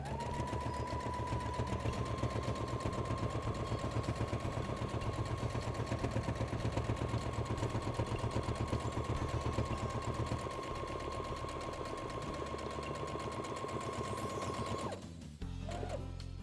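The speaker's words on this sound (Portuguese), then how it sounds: "Vou passar aqui então uma costura, quer ver?" A sewing machine runs steadily at close range, stitching a seam around a cloth diaper holder with a rapid, even mechanical rhythm that stops near the end.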